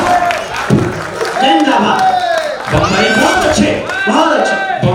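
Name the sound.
audience applause at a Hindi poetry gathering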